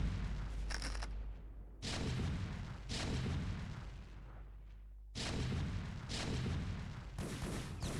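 Siege tanks in a StarCraft match fire a sustained barrage of heavy, booming artillery shots in long dense bursts, loud and continuous with brief quieter gaps.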